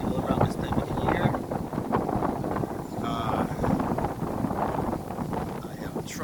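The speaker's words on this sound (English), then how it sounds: "So today is very windy up here, as is usual around this time of the year." Strong wind buffets the microphone on a hilltop with cherry trees, a continuous loud roaring rumble with gusty surges and rustling throughout, heard close and alone without talk.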